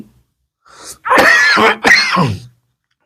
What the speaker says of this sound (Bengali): আমার প্রচণ্ড কাশি হয়েছে ঠান্ডা লেগে